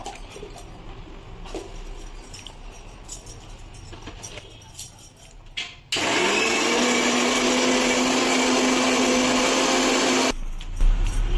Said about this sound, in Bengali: এবার পেঁয়াজগুলো বেটে নেব।